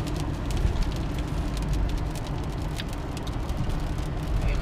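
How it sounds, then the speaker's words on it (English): Heavy thunderstorm rain pounds steadily on a car from inside, a dense, loud, continuous hiss and drumming with no talk. "Look how hard it's raining."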